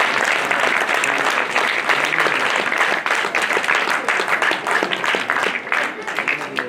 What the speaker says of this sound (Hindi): इनकी खूब ताली बजाकर एक बार स्वागत कीजिए, अच्छी ताली